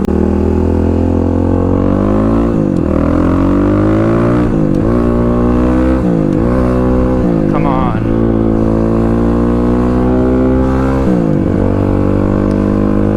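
A motorcycle rides down a cold road, its engine droning loud and close with repeated rises and dips in pitch as it shifts gears, while a rider talks over it now and then.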